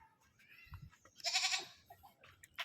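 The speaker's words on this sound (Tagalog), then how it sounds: "Yan o, kambing o." Goat bleating outdoors on a farm near a bamboo thicket, one loud wavering bleat in the middle with fainter animal calls and light rustling around it.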